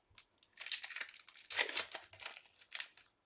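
Marvel trading card packs being ripped open, with quiet crinkling and tearing of foil wrappers in a quick irregular series of close rustles.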